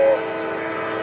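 A CSX freight train, number 604, runs at night with a single lead locomotive and a long string of cars bound for Waycross. A steady tonal horn blast rings out loud and close at first, then holds as a sustained drone.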